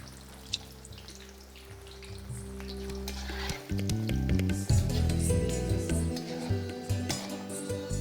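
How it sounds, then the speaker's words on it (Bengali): Potatoes drop into hot mustard oil and sizzle loudly, the frying rising sharply partway through, with the crackle building and stirring clatter near the pan. "সরষের তেল আমি আগে থেকেই ভালো করে গরম করে নিয়েছি, যার মধ্যে আমি আলুগুলোকে দিয়ে দিচ্ছি"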